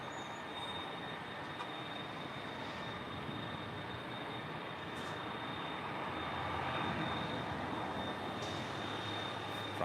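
An Airbus A330 jet airliner at LAX gives off a loud, steady, broadband engine roar that holds at a constant level throughout.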